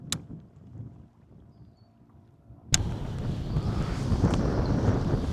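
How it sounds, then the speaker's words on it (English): Wind gusting over an open fishing boat on a lake, starting with a sharp knock and then a strong, steady rumbling buffet against the microphone, close and continuous, with no talk. "Cue the wind."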